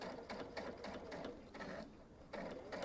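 A sewing machine stitches fabric on a kids' travel pillow project, a close, steady whirring run with a fast mechanical rhythm and a few brief slowdowns, without talk.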